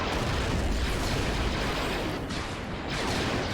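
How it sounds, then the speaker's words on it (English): Sonic boom explosions from Geonosian fire in the Star Wars Galactic Conquest video game, a dense, continuous roar of booming blasts and battle noise filling the clip without pause. "Little Geonosian sonic booms there."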